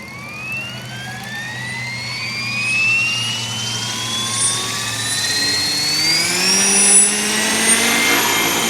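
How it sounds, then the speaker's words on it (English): Whining electric motor of a Blade Fusion 480 Stretch RC helicopter with a Spektrum 6250HX controller spinning up, its pitch rising steadily into a high-pitched whir, loud and close, with no voices. "I'm going to go ahead and start the helicopter up"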